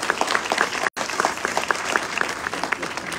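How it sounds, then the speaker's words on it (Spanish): Crowd at a Fiestas Patrias parade applauds a school band, a fairly steady patter of clapping with a brief dropout near the start, heard at moderate distance. "Démosle un fuerte aplauso a la banda del Liceo Gregorio Morales Hospital"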